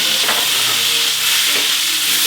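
Pre-cooked potatoes fry in a pan over full high heat, a loud, continuous close sizzle and hiss with faint stirring clatter.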